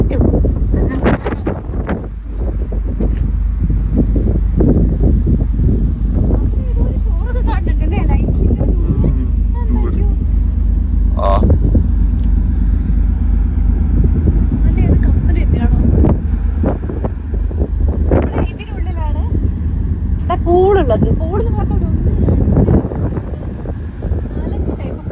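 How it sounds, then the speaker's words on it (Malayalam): Cold night wind roars across the microphone on a cruise ship's upper deck, a loud, continuous buffeting with occasional bursts and faint shipboard rumble underneath. "നല്ല തണുപ്പും കാറ്റും ചുറ്റും കൂറ്റാക്കൂറ്റിട്ടു."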